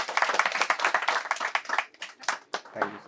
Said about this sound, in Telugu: ఆయన గట్టిగా చప్పట్లతో అభినందనలు